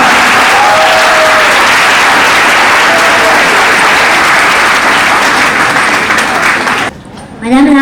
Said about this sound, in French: je me fais le plaisir d'entendre vos applaudissements